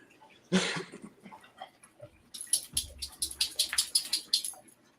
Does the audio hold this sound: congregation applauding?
no